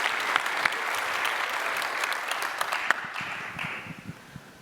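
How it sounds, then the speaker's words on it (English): A conference audience gives a short round of applause, a dense patter of clapping that holds steady and then fades out over a few seconds. "Oh, and a clap, I'll take that as well."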